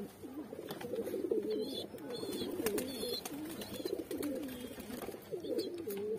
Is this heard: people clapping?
no